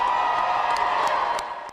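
Crowd at a same-sex marriage rally in Indianapolis, cheering and whooping in a steady, dense roar with scattered shouts over about two seconds, easing slightly at the end.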